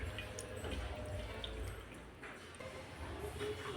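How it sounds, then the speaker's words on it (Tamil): Palm fruit juice strained through a sieve, liquid dripping and trickling steadily at close range with a soft watery patter throughout, no talking. "இதை நம்ம வடிகட்டி எடுத்துக்கலாம் இந்த அறுப்பு மேலே ஊற்றி"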